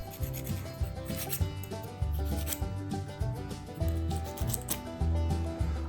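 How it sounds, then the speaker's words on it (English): A small hand file scraping rust off hex bolts, a rapid series of close, rhythmic rasping strokes repeating steadily without pause, with no voices. "I'll use a small file to clean them up."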